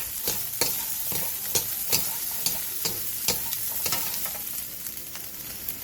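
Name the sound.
shishito peppers stir-fried with salt over high heat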